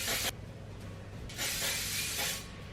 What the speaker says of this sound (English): Oh, I just hairsprayed my arm hair.